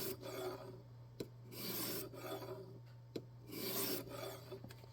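A knife blade drawn across a stone on a jig sharpening system, rhythmic rasping strokes about once a second, close and clear, with sharp clicks between strokes over a low steady hum.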